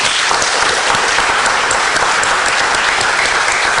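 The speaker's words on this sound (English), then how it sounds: "Let's applaud her and all the other winners." Audience at a short story prize ceremony applauding the winners, dense continuous clapping filling the room at a steady level throughout.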